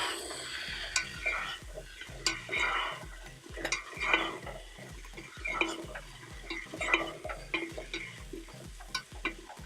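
Pre-sliced mushrooms sautéing with garlic in a pan, with a soft steady sizzle under rhythmic stirring scrapes and light taps, close and fairly quiet, with no voices.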